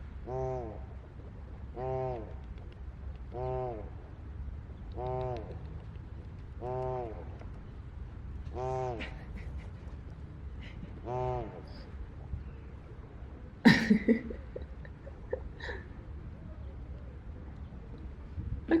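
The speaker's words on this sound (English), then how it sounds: "this loud sound you hear, it's from a swan." A swan gives loud, regular honking calls, about eight in a row at an even pace, while a dog chases the swans, followed by a burst of sharp clattering and splashing noises.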